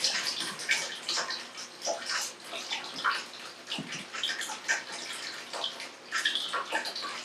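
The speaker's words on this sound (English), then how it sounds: "I'm gonna pour it in a little bit at a time. Just let it strain through." Dandelion coffee poured a little at a time through a wet paper towel strainer into a cup, giving close, uneven splashing and trickling with brief pauses between pours.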